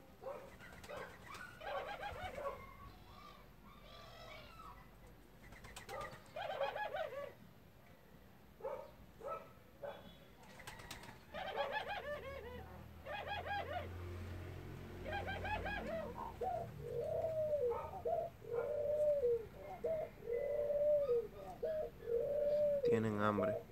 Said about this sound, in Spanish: Ahora, esas tórtolas son grandes,